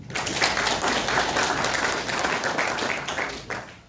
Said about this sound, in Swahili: Naomba tuwapigie makofi mazuri.